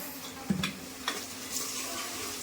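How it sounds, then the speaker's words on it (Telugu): Ginger garlic paste fries in a pan with a steady, quiet sizzle, while a spoon stirring through it adds a few soft scraping clicks near the start. "కలుపుతూ ఉండండి గాయస్. ఇది రెడ్ కలర్ వచ్చేదాకా."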